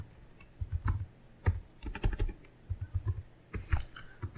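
Someone typing on a computer keyboard, a close series of quick clattering key presses in short bursts with brief pauses, clear and alone with no talking.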